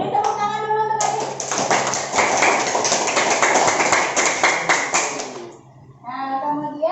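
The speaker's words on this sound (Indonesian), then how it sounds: "Beri tepuk tangan dulu untuk Adit." Classroom students clap together in a dense burst of applause lasting several seconds, loud and close, with a teacher's voice before and after it.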